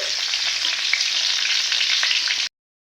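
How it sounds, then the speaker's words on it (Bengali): Three bay leaves and three dried red chillies sizzle in hot white oil as the tempering for a vegetable dal. A loud, steady, close frying hiss runs unbroken until it cuts off suddenly near the end. "দিয়ে দেব 3টে তেজপাতা নিয়েছি, 3টে শুকনো লঙ্কা নিয়েছি"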